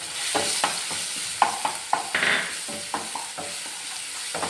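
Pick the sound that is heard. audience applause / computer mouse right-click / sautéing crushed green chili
sautéing crushed green chili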